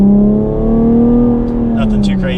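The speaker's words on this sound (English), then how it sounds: "now we're gonna do another acceleration just in automatic normal mode" A 2020 Chevrolet Camaro 1LT RedLine Edition with a V6 accelerating from a stop in automatic normal mode, its engine note rising steadily and loud, heard from inside with a brief burst of noise near the end.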